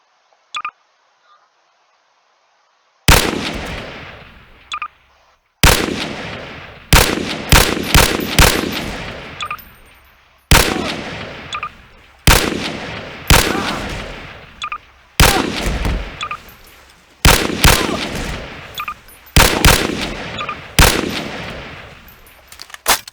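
An M4 carbine firing 5.56 rounds in Garry's Mod lets off loud, sharp shots in single cracks and quick bursts, spaced across the clip with decaying echo tails after an initial near silence.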